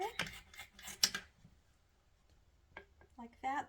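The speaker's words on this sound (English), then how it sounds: "I like to cut it with my kitchen scissors here." Kitchen scissors snip through a wild-caught sockeye salmon fillet, giving a few short, close crisp cuts around the first second and again near the end, with quiet pauses between.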